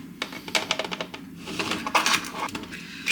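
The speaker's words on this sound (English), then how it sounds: "Give them a quick stir." Roast potatoes coated in oil and melted butter being stirred in an air fryer basket, producing a series of close, irregular clinks, scrapes and knocks over about three seconds, with no talking.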